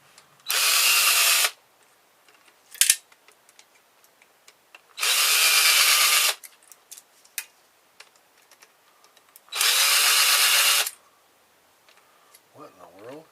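Power drill backing screws out of copper and brass scrap, three separate loud bursts of whirring a few seconds apart with light clinks and taps in between.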